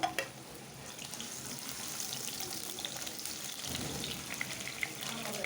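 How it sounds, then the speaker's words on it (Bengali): Sliced onion frying in hot oil in a wok, a quiet, steady sizzle with faint scraping and occasional clinks, no voices. "পেঁয়াজটা ভেজে নেব।"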